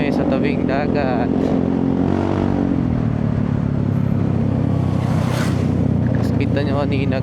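Motorcycles ride a rough, potholed road through a forest on a long trip south in Bicol, engines droning loudly and steadily with clattering jolts and wind, while a rider talks over it.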